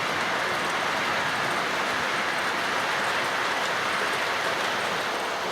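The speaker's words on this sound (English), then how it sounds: "All I can hear is 5 trains running." Five model trains run together on a Magnorail layout, giving a continuous, even hiss-like rumble that fills the room at moderate volume without any distinct beats.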